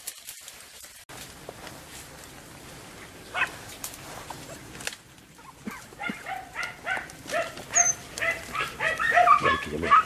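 Andalusian podenco hunting dogs give repeated yips and barks that grow louder and more frequent over several seconds outdoors, with a few whimpers in between.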